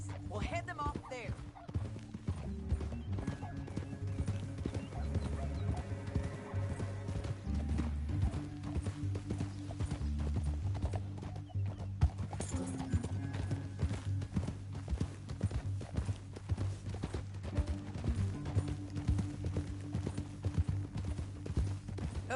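Horse hooves clip-clopping steadily in Red Dead Redemption 2, mixed with neighs, game music and character dialogue throughout.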